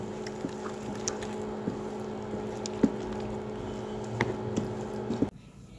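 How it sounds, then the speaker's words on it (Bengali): Egg and salt being mixed quickly by hand into mashed flat beans for a Bengali bean bhorta, giving a steady soft squishing with repeated wet squelches over a constant background hum, stopping abruptly near the end. "এখন ডিমটাকে খুব তাড়াতাড়ি শিমের সঙ্গে মিশিয়ে নেব।"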